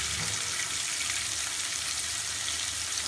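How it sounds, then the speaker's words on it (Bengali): Potato pieces coated in salt and turmeric fry in hot oil, giving off a steady, moderately quiet sizzle that holds even throughout with no voices. "আমার আলুটা ভাজা হয়ে গেছে"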